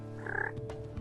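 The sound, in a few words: turkey call making soft hen yelps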